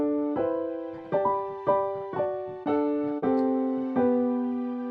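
Gospel piano plays a melody harmonized in drop 2 voicings, a series of rich sustained chords struck about every half second to second, each ringing out and decaying, close and clear with no voices.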